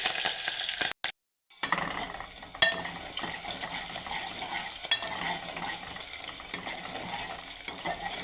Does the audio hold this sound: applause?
no